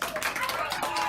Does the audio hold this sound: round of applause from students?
yes